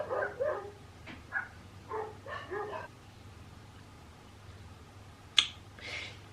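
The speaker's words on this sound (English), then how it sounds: "I'm sorry about the dogs, by the way. I'm hoping they stop barking in a minute." A few sharp dog barks and yips, fairly close, early on, then a quiet gap and a couple more bursts near the end.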